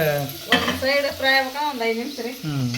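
Food frying in a pan with stirring, a steady sizzle under bursts of clattering and scraping, while someone speaks over it.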